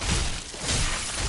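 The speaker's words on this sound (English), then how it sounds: "I think that's what that glass shatter sound effect is me frostbiting them." Glassy shattering effect from the frostbite status in the video game Dark Souls III, a bright crackling burst that fades briefly and swells again, loud and close with no talk over it.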